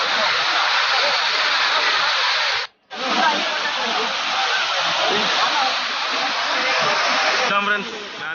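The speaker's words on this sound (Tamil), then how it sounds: "ஃப்ரெண்ட்ஸ் ஹில்ஸ் வந்தாச்சு, கிளியூர் ஃபால்ஸ் இருக்கும் பாருங்க." Kiliyur waterfall in the Yercaud hills pours with a steady, close broadband roar that cuts out briefly for a moment before resuming and continuing unbroken.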